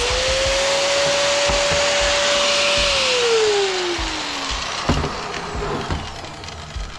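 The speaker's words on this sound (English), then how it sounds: "I usually just take the grinding wheel and cut it there." Angle grinder with a cutting wheel slicing through a metal part while scrapping, a loud steady whine that drops in pitch as the blade bites, then stops, followed by a few clanks of metal being handled.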